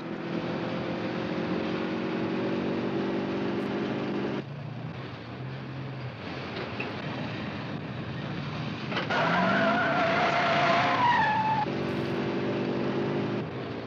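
A speeding 1950s car races along with a steady engine drone, then tires squeal and skid loudly in a long screech before the engine noise resumes.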